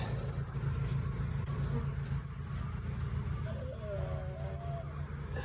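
A honeybee swarm fans at a hive entrance outdoors, a low, steady insect hum running throughout, fairly quiet and mixed with soft background noise.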